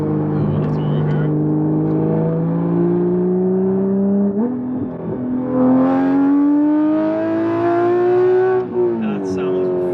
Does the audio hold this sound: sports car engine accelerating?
yes